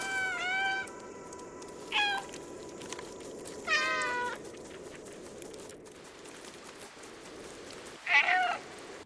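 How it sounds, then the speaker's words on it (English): Cat meowing in the video game Stray, four separate meows with gaps between them over a steady ambient game background. "You can use circle, if you're on PlayStation obviously, to meow whenever you like."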